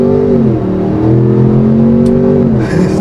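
A 2025 Ford Expedition Platinum Max with a twin-turbo V6 accelerates hard from a launch in sport mode, its loud engine note climbing steadily in pitch, dipping briefly at a shift, then rising again and holding close and strong throughout.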